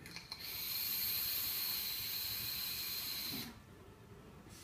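A Joyetech Evic VT electronic cigarette is drawn on with the airflow open, giving a steady airy hiss and crackle that lasts about three seconds and then cuts off, leaving quiet background.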